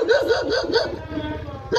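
A dog barks several times in a quick, rhythmic series at close range, then pauses briefly before one more bark near the end.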